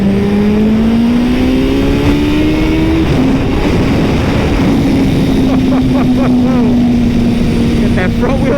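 A turbocharged Suzuki Hayabusa motorcycle cruises at about 100 mph, its engine giving a loud, steady drone that climbs slightly in pitch. Heavy wind roar surrounds the engine note throughout, and a voice talks over it from the rider's position.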